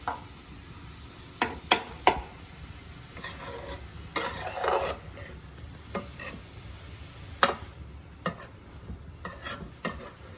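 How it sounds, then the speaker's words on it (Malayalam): Cabbage is stirred in a pan on the stove, with a soft sizzle underneath and intermittent sharp scraping strokes of a utensil against the pan, irregular and close. "ക്യാബേജിന് ഈ അടുപ്പിൽ ഇരുന്ന് നല്ലോണം വാടിക്കണം. നമുക്ക് നല്ലോണം മിക്സ് ചെയ്ത് കൊടുത്തിട്ട് ഒരു മൂടിയിൽ അടച്ചു വെക്കാം."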